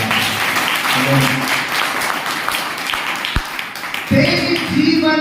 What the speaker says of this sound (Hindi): ताली बजा के परमेश्वर को धन्यवाद।